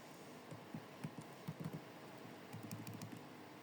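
Light, quiet clicks of typing on a computer keyboard while entering code in RStudio, in a few short irregular bursts over a low steady background hiss.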